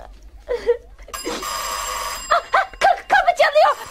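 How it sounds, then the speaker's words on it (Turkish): A sustained electronic bell tone rings at a door for about a second and lingers faintly, set between voices speaking in a dramatic indoor scene. "Kapı çalıyor."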